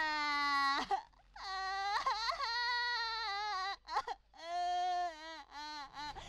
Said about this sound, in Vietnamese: mày không nghe thấy tiếng khóc à?